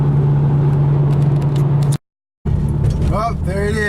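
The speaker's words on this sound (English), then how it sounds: "I'm still going over the speed limit, but I'm driving with a purpose." A car cruising at speed on Interstate 70 in the American Midwest, a steady loud in-cabin drone and road rumble with a sustained low hum, briefly cut to silence, while someone talks over it.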